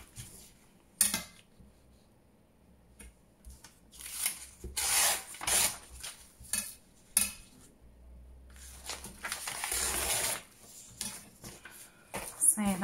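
Paper is rubbed by hand while making black and white junk journal ephemera, giving soft, uneven bursts of scuffing and rustling with a few small taps and clicks, close by and fairly quiet.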